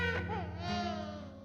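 A baby cries in one sustained wavering wail, fairly clear and close, in a suspenseful horror drama scene.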